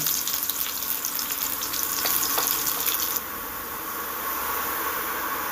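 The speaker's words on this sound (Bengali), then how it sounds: "দিয়ে দিচ্ছি কোচানো রসুন রসুনটা হালকা একটু ভেজে নেব" Crushed garlic fries in a pan of hot oil with black cumin, giving a steady, loud, close sizzle with a few crackles; the hiss thins and softens slightly partway through.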